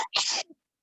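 A single sharp sneeze bursts out close by during a lecture, brief and loud, followed by silence.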